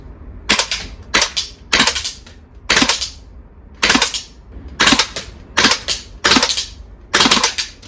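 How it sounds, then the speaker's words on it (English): A VFC gas blowback MP5 airsoft gun fires in cold weather on semi-auto, popping out sharp cracks that mostly come in quick doubled pairs, loud and close in an irregular rhythm. "I'm quite disappointed that it's double tapping on semi-auto"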